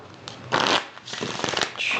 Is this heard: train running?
no